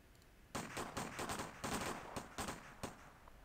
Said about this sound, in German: Die schießen da auf uns.